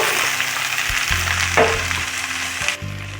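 Chopped tomato, eggplant, carrot and capsicum sizzle loudly in a hot pan while cooking a mung dal sambar, a close crackling fry with a few stirring clatters and no talking.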